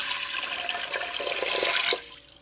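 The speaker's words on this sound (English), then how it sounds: "to that, I'm going to add 2 cups of warm water." Warm water pours steadily into a bowl holding about a tablespoon of honey, a close, bright splashing stream that runs for two seconds before cutting off.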